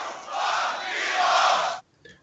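A live crowd at a beatbox battle event lets out one loud, sustained group shout for nearly two seconds, then cuts off abruptly into near silence with a faint trailing sound.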